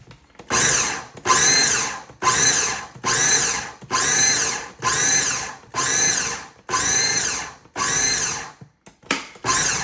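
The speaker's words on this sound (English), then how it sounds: "We'll just give this another nice little mix." A food processor mixing peanut butter Oreo cheesecake filling, run in about nine even pulses of whirring motor roar separated by short silences, close and loud.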